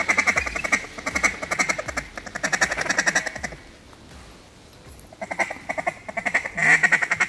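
Ducks quack in rapid repeated bursts in flooded timber during a duck hunt in Arkansas, loud calls clustering in two bouts with a quieter gap between them.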